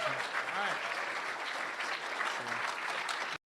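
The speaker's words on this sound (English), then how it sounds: "A big round of applause to Davis Morley." An audience at a talk at Handmade Seattle 2022 claps for a first-time speaker, a dense, steady burst of applause filling the room before cutting off abruptly.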